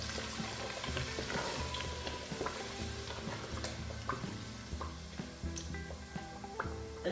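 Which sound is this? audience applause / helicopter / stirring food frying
stirring food frying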